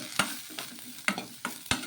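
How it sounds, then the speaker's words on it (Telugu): Curry leaves are stirred into a cooked mixture in a pan. A spoon scrapes in five or six distinct, crisp strokes over a soft, continuous sizzle, with no talking. "ఇందులోకి కొద్దిగా కరివేపాకు కూడా వేసుకోవాలి వేసుకొని ఒకసారి బాగా కలిపేసుకొని"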